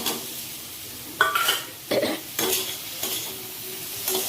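Chillies, a bay leaf and papaya are stirred in oil in a new kadai, giving a soft background sizzle broken by five or six scraping stirs of the spoon against the pan.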